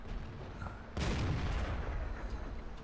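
A single tank gun shot in World of Tanks fired through a window gap: one sudden loud blast with a broad, rumbling boom that rings on and decays slowly under low game ambience.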